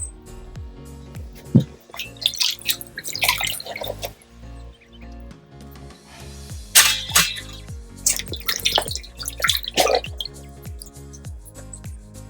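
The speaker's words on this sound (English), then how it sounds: "So I'm washing the eggplants." Freshly harvested eggplants rinsed under running water, with close splashes, drips and wet squeaks of hands rubbing the skins, coming in uneven bursts over a quiet background with some music.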